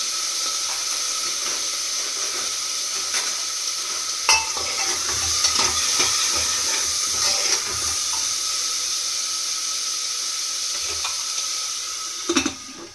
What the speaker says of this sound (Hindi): अब मैं इसमें डालूंगी सारे वेजिटेबल्स एंड ऑनियन